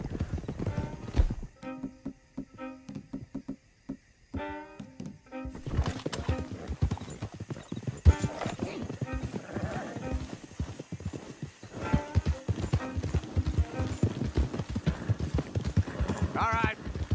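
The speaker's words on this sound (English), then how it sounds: "Don't want the horses clopping around outside the window." Horses' hooves clip-clop steadily in Red Dead Redemption 2, riding along with occasional whinnies and speech over game music; the hoofbeats thin out briefly before returning loudly and continuously.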